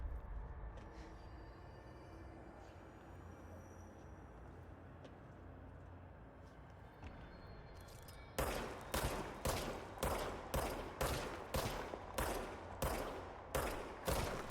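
Gunfire from a gun in the video game Control: after a stretch of low rumbling ambience, a rapid regular series of loud, sharp shots rings out, about a dozen evenly spaced reports with no talk.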